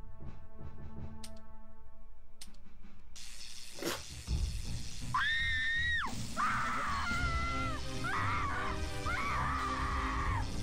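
Shrill, wavering screams ring out in the Syphon Filter video game, several cries rising and falling after a sharp impact amid dense, noisy game ambience.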